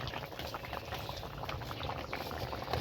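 Rice boiling in a pot on a home stove, a steady dense bubbling and gurgling that stays close and even throughout with no talking.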